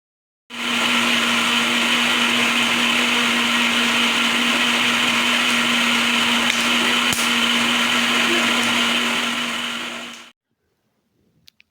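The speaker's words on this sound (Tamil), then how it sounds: "இந்த பழத்தையும் ஆட் பண்ணிவிட்டு நல்லா ஃபைனாக நம்ம அடிச்சிட்டு வந்துடலாம்" An electric blender whirs loudly and steadily for about ten seconds, blending muskmelon, dates and country sugar, then stops abruptly with a couple of faint clicks afterward.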